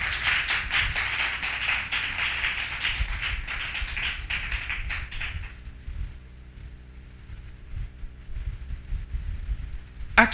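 A church seminar congregation claps in a dense, steady burst of applause for about five seconds, then the room drops to a quiet murmur with faint scattered taps.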